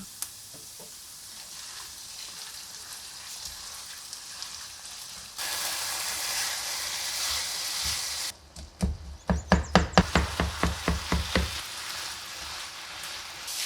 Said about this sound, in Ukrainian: Спочатку наріжу цибулю та обсмажу її на рослинній олії до золотавості.